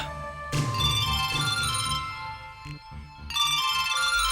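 Phone ringtone playing as a melodic electronic tune, in bursts with brief pauses between them, clear and close with no talking over it.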